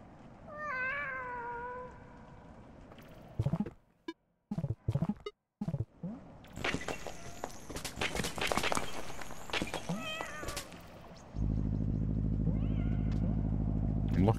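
Cats meowing in the video game Animal Well, several short rising and falling meows near the start and later, mixed with game clicks and effects, ending in a steady loud hum.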